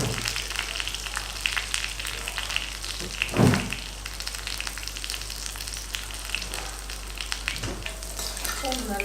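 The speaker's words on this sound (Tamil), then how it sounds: "எண்ணெய் ஊத்திட்டு நெறைய பூண்டு போட்டுக்கோங்க." Plenty of garlic and curry leaves fry in hot oil, a loud, dense, continuous crackling sizzle close up with a brief stirring scrape in the middle.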